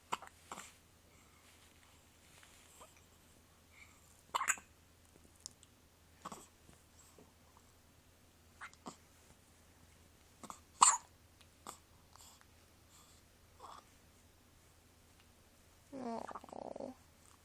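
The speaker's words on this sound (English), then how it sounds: "Do you have the hiccups?" A three-day-old newborn gives soft, brief hiccups at irregular intervals in a quiet room, each one a faint isolated pop, with a short fussy sound near the end.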